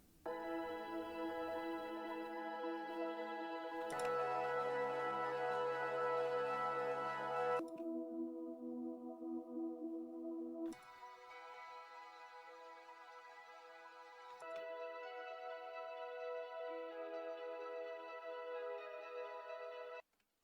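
Layered ambient synth loops from an emotional progressive house track, sustained pads and tonal textures shifting in sections, a denser bright passage giving way to thinner, sparser layers, steady and fairly loud with no voices.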